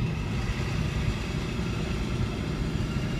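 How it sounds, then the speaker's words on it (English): Steady low road rumble from a vehicle crossing the new span of the San Francisco Bay Bridge westward, a continuous engine and tire drone with no distinct events or speech. "I do hope you enjoyed the sounds from the moving truck"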